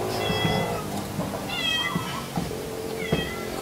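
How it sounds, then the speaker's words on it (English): A cat whines and meows indoors, several drawn-out plaintive calls spaced across a few seconds, fairly faint against a quiet background. "There's a cat whining."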